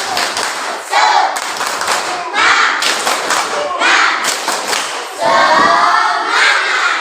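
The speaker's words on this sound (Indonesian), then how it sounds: "kita tepuk semangat dulu yuk" A primary school class does a rhythmic spirit clap together, rapid bursts of many hands clapping in unison with a few thumps and shouted voices, loud and close, in short repeated phrases.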